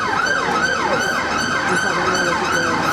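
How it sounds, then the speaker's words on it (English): Loud wailing emergency sirens sweep up and down repeatedly, close by and continuous, overlapping with one another. "endless sirens today"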